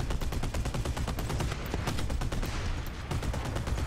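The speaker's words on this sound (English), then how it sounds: "I get shot from the left" Rapid, continuous naval gunfire from a ship in the War Thunder video game, a dense stream of loud shots and booms layered over one another with no pauses.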